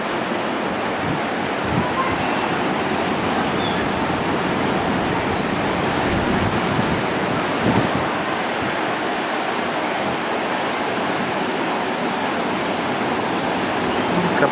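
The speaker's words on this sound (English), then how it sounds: "A couple of big waves coming." Ocean surf breaks steadily on a beach at a Mazatlán resort, a continuous loud wash of waves with wind noise across the microphone and no clear pauses.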